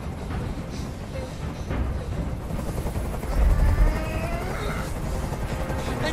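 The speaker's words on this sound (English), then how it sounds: "Tell that helicopter to get out of here." A helicopter in the video game Detroit: Become Human keeps up a steady low rotor drone throughout, with faint game sounds layered over it.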